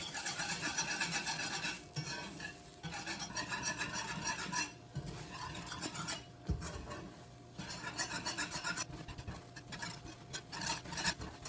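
Scrambled eggs are whisked and stirred in a pan, close scraping and rapid rhythmic clatter in bursts separated by short pauses.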